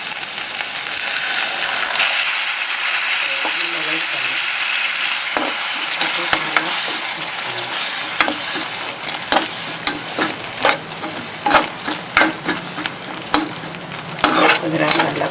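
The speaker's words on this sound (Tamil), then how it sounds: "கொஞ்ச நேரம் நல்லா கொதிக்கட்டும்." Steady sizzling and simmering of palak paneer in a pan over a low flame, a dense crackle with occasional clinks of stirring, close and fairly loud throughout.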